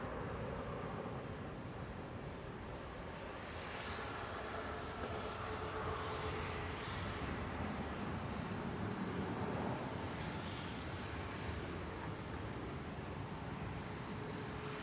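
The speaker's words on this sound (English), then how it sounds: "A380 is approaching." Airbus A380 airliner approaching Manchester Airport, a steady broad jet roar that swells gently and holds at a moderate distance throughout, with no talk.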